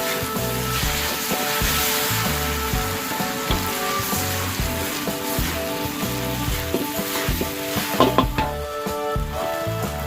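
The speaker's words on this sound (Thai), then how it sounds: "ให้เส้นมันสุก ผัดไว้ครู่เดียวนะครับ" Noodles for seafood kua kraprao stir-fry in a hot pan, a constant close sizzle broken by rhythmic tossing and scraping strokes, with a few sharper clatters toward the end and no talking.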